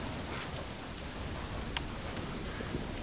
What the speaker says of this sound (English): the lightning from the thunderstorm in the background